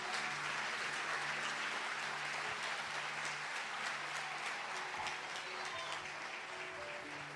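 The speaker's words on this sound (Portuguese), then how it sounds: "Pode aplaudir o Senhor." A Pentecostal church congregation applauds the Lord, sustained even clapping from a crowd heard at a moderate distance, with a low steady hum underneath and no speech.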